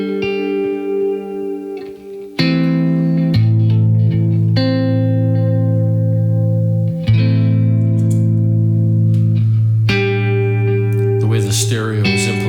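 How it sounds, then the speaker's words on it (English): An electric guitar runs through a Galaxy tape echo pedal in stereo, its sustained chords and plucked notes trailing soft repeats, loud and close with no talking. "Stereo is implemented on the Galaxy, it really does behave like a tape echo."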